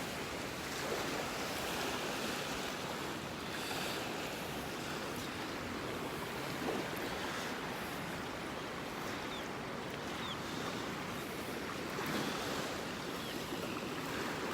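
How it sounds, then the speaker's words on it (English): Ocean waves washing onto a beach in North Naples, Florida, forming a steady, fairly loud broadband rush of surf with no pauses and no voices. "the waves are coming in here"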